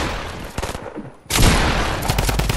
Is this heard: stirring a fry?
no